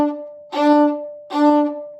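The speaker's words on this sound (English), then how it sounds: "Quick, lightning, zippy bows" Two short, crisp violin notes are bowed with brief silences between them, each attack quick and bright, played close with no talking.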